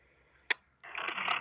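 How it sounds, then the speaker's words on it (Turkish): A phone starts ringing during the building of a dual-band car antenna, a close, buzzy warbling tone that kicks in abruptly after a single sharp click and keeps pulsing. "Bir telefon var bir saniye."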